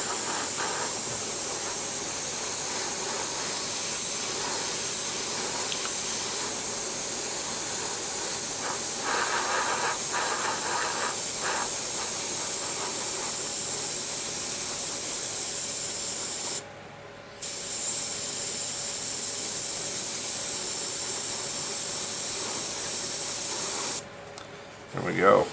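An airbrush sprays paint in a steady, close hiss while a Union Pacific SD70 model locomotive is weathered, running almost continuously with two brief pauses near the end.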